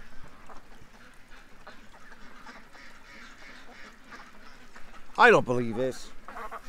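Ducks quack loudly in a short burst of several calls near the end, rising suddenly over soft background chatter as a person talks at a pond's edge.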